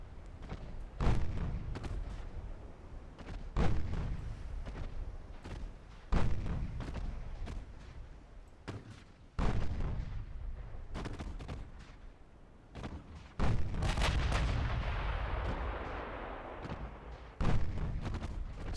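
Battleship main guns firing in the naval warfare game Ultimate Admiral Dreadnoughts, about seven heavy booming salvos spaced a few seconds apart, each a loud thud trailing off into a long rumble.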